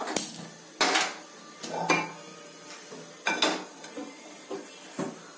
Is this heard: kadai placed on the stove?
yes